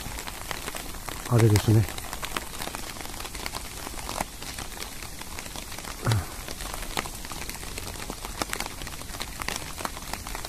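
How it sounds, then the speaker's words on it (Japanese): Steady rain falls outdoors at a temple in Harima, a constant patter on surfaces with a few louder thumps, as someone speaks briefly over it. "雨が降ってるのでね、"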